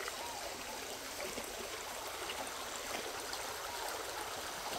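A river stream flows steadily with a broad, constant rush of water, moderately distant and unbroken, with no voices.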